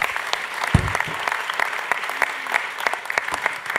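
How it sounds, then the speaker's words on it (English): Audience applause at the Ocean Innovators Platform event, a steady round of crisp clapping from a crowd lasting throughout, with a brief low thump near the start. "Let's give them a round of applause."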